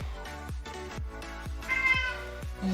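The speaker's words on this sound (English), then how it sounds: "yes, I hear you being a meowy boy" A male pet cat meows repeatedly indoors, about six close, loud calls in a steady rhythm, the later ones stretched and more insistent, with no talking over them.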